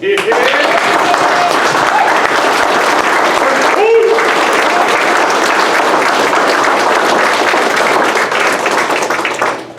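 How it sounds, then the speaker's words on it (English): Standing ovation applause for graduating airmen at a class graduation ceremony, dense sustained clapping from a full room lasting about ten seconds, with a brief dip partway through and a few voices mixed in. "I think those 7 individuals require another standing ovation"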